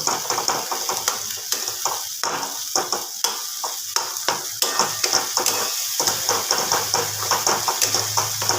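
Cashew, poppy seed and melon seed paste sautéed and stirred in a pan for dahi cauliflower, a steady sizzle broken by frequent sharp spatula scrapes and taps against the pan, close and continuous with no talking.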